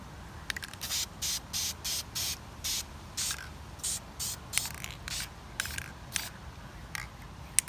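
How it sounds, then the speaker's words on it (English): Short bursts of black spray paint hiss from an aerosol can onto a Halloween cauldron candy dish, about a dozen evenly spaced squirts, close and crisp, with faint clicks between them. "we're just going to spray it black"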